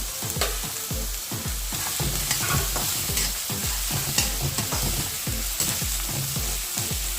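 Mustard seeds, cumin, chopped onion, garlic and green chili sizzle in hot oil in a pan, with steady frying crackle and repeated spoon-stirring scrapes close up, no talk.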